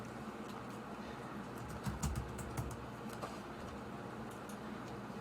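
Soft, rapid clicking of keys on a computer keyboard, close by over a steady background hiss, in a brief flurry of typing.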